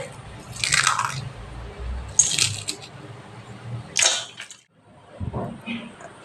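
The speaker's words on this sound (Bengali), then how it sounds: "একটা পাপড়ি ভেঙে দেখাচ্ছি কতটা মুচমুচে হয়েছে।" A crispy deep-fried papdi is snapped by hand, giving a few short crisp cracks and crunches close up with brief pauses between them.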